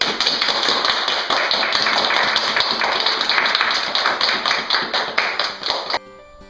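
A group of people claps and applauds steadily and loudly for about six seconds, then the sound cuts off abruptly.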